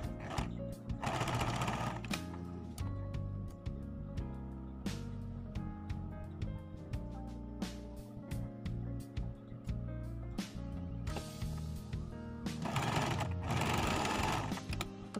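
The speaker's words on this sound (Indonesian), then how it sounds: "Kita jahit terlebih dahulu." A sewing machine stitches chair cover fabric with a close, steady mechanical chatter, broken by short pauses and louder rapid runs near the start and end.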